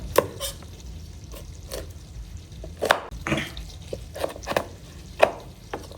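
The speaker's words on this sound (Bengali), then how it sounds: "এভাবে চার ভাগ করে কেটে নিতে পারেন" Knife cutting hog plums (amra) into quarters on a board for pickle, with sharp isolated chops spaced irregularly, close and clear over a faint kitchen background with no talking.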